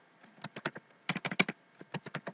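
Rapid keystrokes on a computer keyboard while a network router command is entered in a terminal, coming in close, uneven bursts of clicks with short pauses between them.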